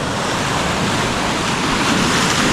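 Sea waves surging against the rocky Tasmanian coast near Wineglass Bay in Freycinet National Park, a loud continuous roar of surf with wind buffeting the microphone.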